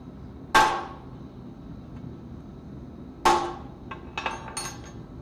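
A hammer strikes a Damascus steel billet to cut a deeper mark, two sharp ringing metallic blows a few seconds apart followed by a cluster of lighter clinks, all clear against a quiet background.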